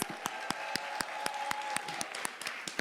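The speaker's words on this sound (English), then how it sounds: "Sonia Mbele, everybody, let's give a round of applause." An audience at a women's economic empowerment event claps for Sonia Mbele, a steady, fairly soft applause with a few sharp, distinct claps standing out regularly above the wash of hands.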